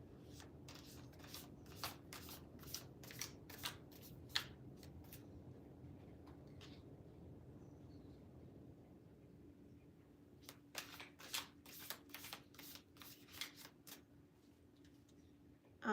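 Tarot cards shuffled in quick bursts of crisp, riffling clicks, a busy run early on, a lull, then another flurry near the end, all faint and close with a low hum beneath and no talking.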